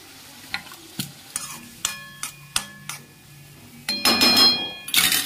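Chickpeas go into a pan of spiced masala frying in oil, and a spoon taps and scrapes the pan in sharp, evenly spaced knocks before a loud burst of sizzling and stirring takes over near the end.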